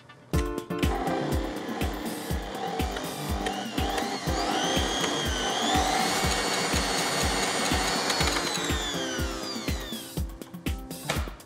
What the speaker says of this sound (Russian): Я частями добавляю мягкое комнатной температуры масло и продолжаю его взбивать.